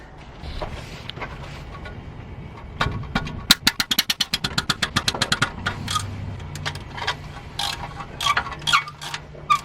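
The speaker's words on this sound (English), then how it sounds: "Time to put the hood on and hope that the car starts." A car engine with a heavily crusted engine bay cranks with a rapid run of rhythmic clicking pulses, then catches into a low, steady rumble with scattered knocks and rattles.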